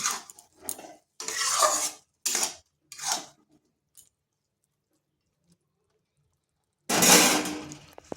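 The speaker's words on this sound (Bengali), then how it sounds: "এবার ভালোভাবে মশলাগুলো একসাথে মিশিয়ে নিচ্ছি।" Spices being stirred together in a pan with ridge gourd for a vegetarian dish, with sugar added, heard as several short scraping, clattering bursts of a spoon against the pan, a pause, then a longer louder scrape.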